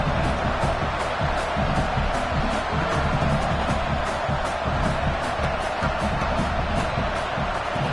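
Football stadium crowd during a college game against Texas as a field goal attempt is lined up, a dense, continuous roar of cheering and noise holding steady and loud throughout.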